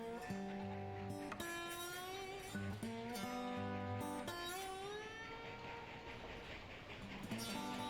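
A train runs in the video game Railroad Tycoon II, with a steady rolling rumble beneath layered tonal chimes and horn-like notes that shift in stepped pitches, quiet and continuous.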